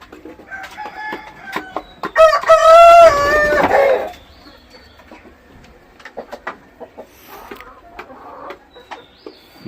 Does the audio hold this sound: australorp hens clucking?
yes